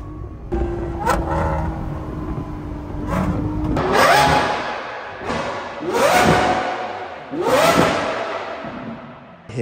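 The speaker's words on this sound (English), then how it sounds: "We've got DDE's SVJ Gintani exhaust." SVJ supercar fitted with a Gintani exhaust, heard close up: a low idle, then three loud, rising revs a couple of seconds apart, each flaring and falling back with a rasping roar.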